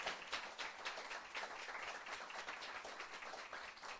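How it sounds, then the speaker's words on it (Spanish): Audience applause welcoming a guest speaker at a talk on entrepreneurship ecosystems and territorial development, a steady dense patter of many hands clapping from start to finish, fairly quiet and distant. "te vamos a recibir con un aplauso"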